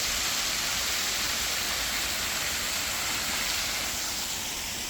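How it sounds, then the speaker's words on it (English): Steady, loud broadband rush of a waterfall about 15 or 20 feet high on the trail to Hemmed-In Hollow Falls, close and continuous with no voices. "we're coming up on another nice waterfall here"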